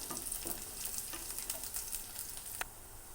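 Onions and curry leaves frying in a pan with tempering seeds for a stuffed brinjal curry, giving a steady close sizzle and crackle with a few sharper pops, no talking.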